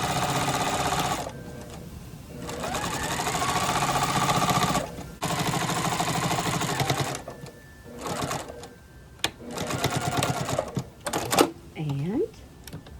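A sewing machine stitches down the edge of a fabric purse strap, running in close, loud bursts of rapid stitching with brief pauses between them, while a voice talks over it.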